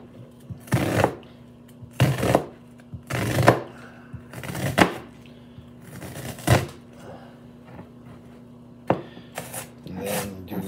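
A knife chops onion into small dice on a cutting board while making guacamole, with sharp, separate thuds about a second apart, moderately close and without talk.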